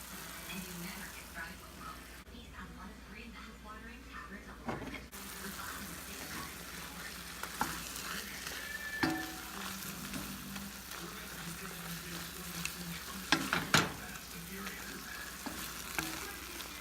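Garlic sizzles loudly in a pan for shrimp scampi while it is stirred, with scraping and occasional clinks over the frying and people talking nearby.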